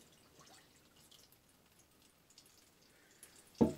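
Pepsi Max drips slowly through a ZeroWater filter jug, faint sparse droplets over near silence, ending in a louder splash-like drip.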